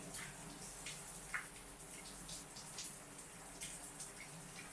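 Water runs steadily from a shower or tap while hair is washed, a continuous broad hiss with soft splashes and drips breaking through, fairly close and without talk.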